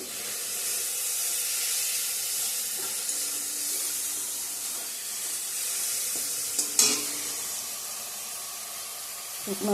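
Spices stir-fried in a pan for a paneer curry, a continuous close sizzle and hiss with occasional scraping and clinks from stirring.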